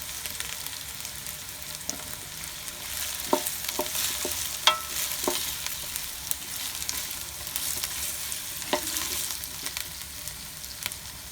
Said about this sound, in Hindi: एक से 2 मिनट तक हमने मसाले को और आलू को अच्छी तरह भून लिया है।